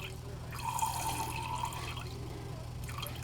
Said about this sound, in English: I'm going to measure 50 grams of distilled water.